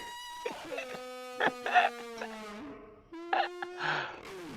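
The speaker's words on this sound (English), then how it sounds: "It's the stock sound of a baby crying," A baby's wailing cry played slowed down, drawn-out and low-pitched, in several long sobbing bursts with brief pauses between.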